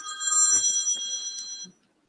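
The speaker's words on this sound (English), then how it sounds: "my girlfriend called my phone" A phone rings with a bright electronic warble of steady tones, cutting out after about a second and a half, with faint muffled talk beneath it.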